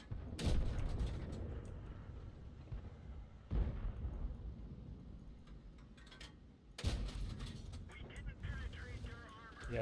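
Tank cannon shots in World of Tanks, three heavy booming blasts spaced a few seconds apart with rumbling mechanical tails, under a speaking voice.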